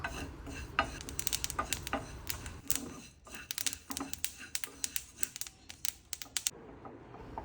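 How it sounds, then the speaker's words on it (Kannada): Fennel and sesame seeds dry roasting in a pan, with scattered sharp crackles and pops and occasional stirring scrapes, fairly close, before fading to quiet. "ಸೋಪು, ಎಳ್ಳು ಹಾಕಿ ಇದನ್ನು ಡ್ರೈ ರೋಸ್ಟ್ ಮಾಡಬೇಕು. ಚಟಪಟ ಅನ್ನೋವರೆಗೂ ಹುರಿಯಬೇಕು."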